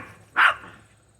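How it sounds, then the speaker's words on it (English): A single sharp bark from a household dog, loud and close, rising out of a quiet indoor room with a low steady hum beneath. "Sorry about my dogs barking."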